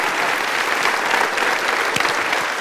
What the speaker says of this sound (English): another round of applause for Josie.